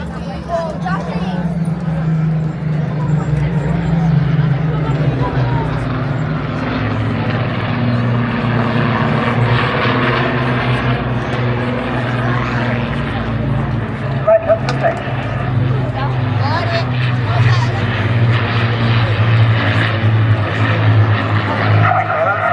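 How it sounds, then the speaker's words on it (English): Spitfire and Hurricane fighters, piston-engined warbirds, fly overhead at the Blackpool airshow, giving a steady droning engine rumble with wavering pitch as they pass, while a commentator talks over it. "Spitfire and a Hurricane"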